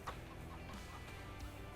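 Chickens cluck in Farming Simulator 22, giving a couple of short, soft clucks over a low steady background hum, brief and fairly quiet.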